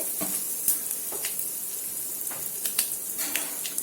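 Fenugreek seeds and asafoetida drop into hot oil already holding cumin and mustard seeds, tempering for a Maharashtrian dahi kadhi; a close, steady crackling sizzle with scattered sharp pops throughout.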